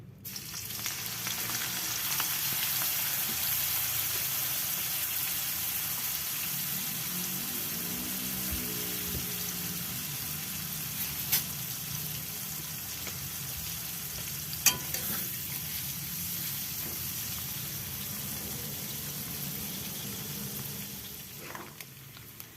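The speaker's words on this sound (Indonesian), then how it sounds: "Kemudian Mama akan menggoreng dulu ikan terinya" Small anchovies fry in a pan with a steady, crackling sizzle, close up, with a few occasional clinks of stirring.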